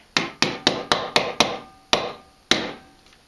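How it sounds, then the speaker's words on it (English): A hammer taps a plastic Nerf blaster part into place sharply eight times, a quick run of six evenly spaced hits, then two slower final taps with a hard, hollow click. "tap that back into place"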